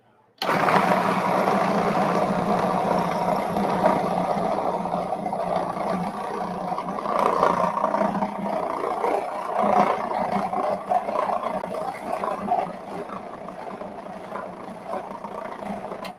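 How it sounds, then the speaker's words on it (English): A blender spins a batch of ingredients with sesame oil in a steady, continuous whir that holds loud and even for the whole stretch, easing slightly toward the end. "I'm going to put my top on and just give it a whirl"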